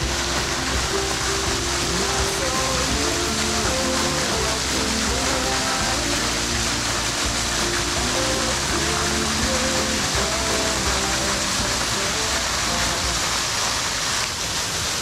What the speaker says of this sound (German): Dieser wunderschöne Wasserfall.